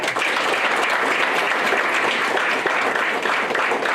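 Loud, steady applause from a crowd at a Hall of Fame ceremony, sustained clapping filling the whole stretch without pause.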